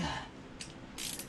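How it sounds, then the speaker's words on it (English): A torque wrench ratchets on the bolts of a slip-on exhaust on a 2008 Harley-Davidson Sportster 883C, giving a few quick, faint clicks close by. "So we're going to get the torque wrench, inch pounds."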